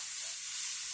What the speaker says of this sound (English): Lamb cooks pretty quickly and I don't want to overdo it. So we're just going to let that cook real quick.